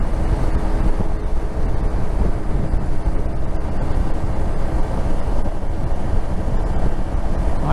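Wind buffeting the top of a motorcycle helmet with a new screen while riding, a loud, constant roaring rush with rapid fluttering pulses throughout.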